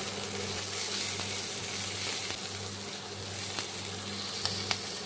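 Fourteen or fifteen garlic cloves and an equal amount of chopped ginger fry in oil in a pan. A continuous soft sizzle and crackle runs throughout, with a few faint clinks and no talking.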